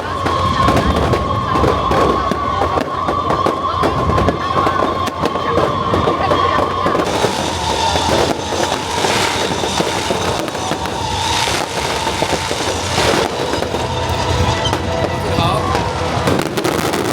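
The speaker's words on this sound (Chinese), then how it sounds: "晚上360秒的烟火秀，更是将活动带到最高潮。" Fireworks burst over a fishing harbour festival at night amid a continuous loud crowd roar. Crackling bangs run throughout, and people talk and cheer in the background.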